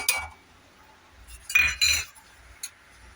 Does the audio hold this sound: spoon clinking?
yes